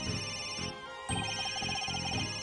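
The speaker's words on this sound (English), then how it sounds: "Where's that ringing coming from?" A cell phone ringtone in the Phoenix Wright: Dual Destinies video game, a steady electronic ringing pattern that repeats in short pulses, loud and alone without voices.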